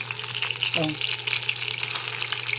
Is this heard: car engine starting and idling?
no